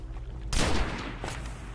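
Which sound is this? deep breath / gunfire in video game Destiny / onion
gunfire in video game Destiny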